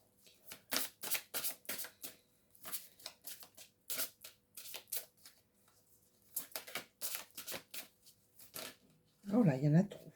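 Oracle cards are shuffled and handled in quick bursts of crisp riffling and flicking, fairly close and quiet, alternating with someone speaking between the shuffles.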